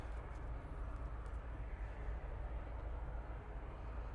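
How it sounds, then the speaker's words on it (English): Ryanair airliner departing Manchester Airport for Belfast, a steady low engine roar that holds evenly throughout without any voices. "We've got a Ryanair going off to Belfast"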